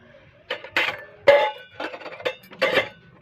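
Metal pots, lids and utensils clink and clatter in a home kitchen as the cookware is handled and covered. Several distinct knocks and rattles come close by, and no one talks.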